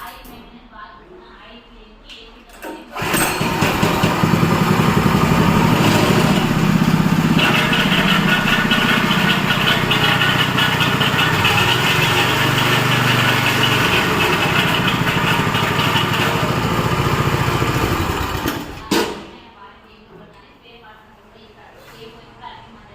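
An 8.5 hp clutch-type high-speed power weeder engine starts up and runs loud and close for about sixteen seconds with a steady buzzing drone, then cuts off. A voice talks briefly before and after.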